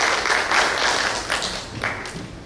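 A church congregation applauds during a Sunday worship service, a sustained wash of crowd clapping with uneven swells that continues steadily throughout.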